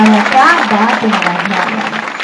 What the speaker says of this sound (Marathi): एकदा जोरदार टाळ्या झाला पाहिजे भजनी मंडळासाठी